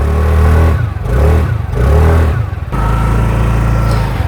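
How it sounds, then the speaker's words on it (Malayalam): Close to the exhaust of a 2024 TVS Jupiter 110cc scooter, the small engine is blipped in a few short rises and falls of revving before dropping back to a steady, low idle. "ഇതാണ് വണ്ടിയുടെ എക്സോസ്റ്റ് സൗണ്ട് വരുന്നത്."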